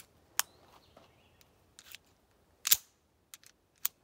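A Colt Model 1908 Vest Pocket pistol cycles a round from its magazine, sharp metallic clicks and clacks spaced out over a few seconds, close and crisp against near silence.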